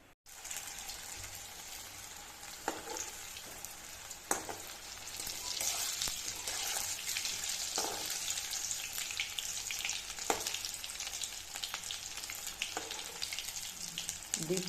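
Kothimbir vadi, coriander fritters, deep fry in hot oil with a soft, continuous bubbling sizzle that holds steady throughout, broken by a few faint clicks and no speech.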